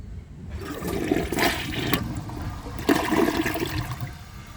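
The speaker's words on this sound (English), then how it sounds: "So even with the short flush, it'll still pass." A Glacier Bay high-efficiency toilet, with mineral deposits and installed on well water, runs its short flush: a loud rushing gush of water that holds steady for about four seconds, close up, with no talking.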